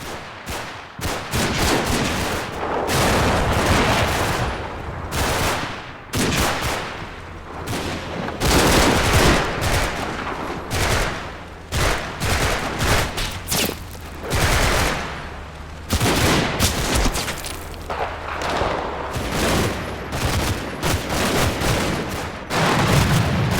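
Gunfire in the Combat Mission: Red Thunder video game during a river crossing battle, with dense overlapping bursts of rifle and machine-gun shots and booms cracking almost continuously, loud and close.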